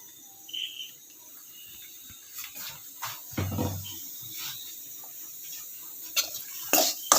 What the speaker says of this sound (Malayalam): ഇതെല്ലാം കൂടെ നന്നായിട്ടൊന്ന് വറുത്തെടുക്കണം